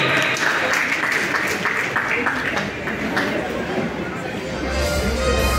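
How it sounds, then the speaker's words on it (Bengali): An audience claps for a second runner-up at the Precise Energy Olympiad 2025 award ceremony, a loud sustained patter of many hands mixed with crowd murmur that eases slightly midway. "একটা জোর করতালি।"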